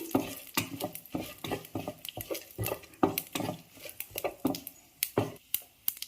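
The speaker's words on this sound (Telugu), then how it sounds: "అందులోనే ఒక ఎండుమిర్చి, కరివేపాకు వేసుకోవాలని కొంచెం బాగా కలపాలండి. కొంచెం దోరగా వేగాలి." Dry red chili and curry leaves frying in a pan for mint chutney, a rapid series of sharp spoon-on-pan clinks and scrapes over a light sizzle, close and busy.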